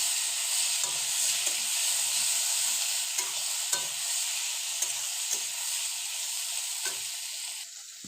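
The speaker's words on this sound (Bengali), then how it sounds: "পেঁয়াজ, টমেটো সেগুলো দিয়ে দিলাম, দিয়ে সেগুলো ভালো করে ভেজে নিতে হবে" Potatoes, onion and tomato frying in a pan give a steady, dense sizzle and hiss, close and continuous, broken by occasional soft clicks and scrapes of stirring, with no talking.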